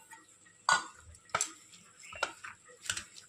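Boiled lentils going into a pan of mashed onions for a Bengali masoor dal bharta, heard as a few quiet scattered clinks and scrapes of a utensil against the pan.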